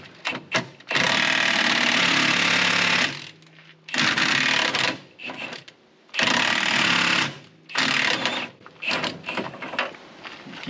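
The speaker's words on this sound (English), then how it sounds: "It needs some more reaming." A power reamer bores out a buggy steering knuckle in several long, loud, grinding bursts of a few seconds each, with short quieter gaps between them.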